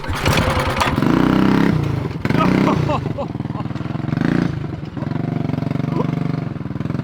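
A small go-kart engine on a wheelie go-kart camping rig fires up and revs, loud and close, rising and falling in steady pulses, with voices talking over it.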